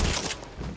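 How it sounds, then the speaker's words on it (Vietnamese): A single loud shotgun blast in the Fortnite Battle Royale video game, a heavy close boom at the start that decays into a rumbling tail, with no talk over it. "Một quả shotgun vào mặt"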